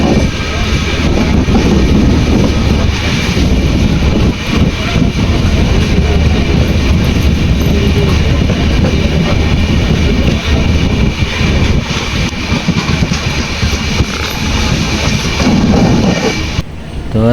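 A Konkan Railway Jan Shatabdi train stands at platform 5 at a station, waiting to depart, with a steady, loud station rumble and low engine drone running throughout and voices faintly mixed in.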